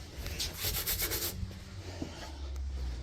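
Compliance tags being pulled off a 1975 Daihatsu F10 give a close, quiet scraping and peeling rasp for about a second, then fade into faint low background rumble.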